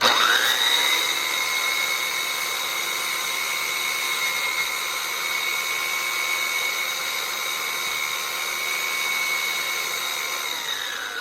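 A power sanding tool works an angled wooden leg for a bean bag toss board, giving a steady, close, high-pitched motor whine that holds unbroken for about eleven seconds after a brief spin-up.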